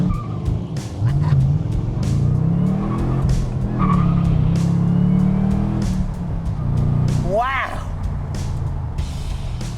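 A Camaro ZL1 fitted with a pedal commander in Sport Plus mode accelerates hard, its engine roaring loudly with chirping tire squeal as gears climb and a brief tire squeal near the end, with a voice briefly heard.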